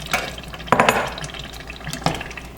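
Water poured into a simmering beef lasagna sauce in a pot, a close splashing, sloshing pour with a few sharper splashes, no voices.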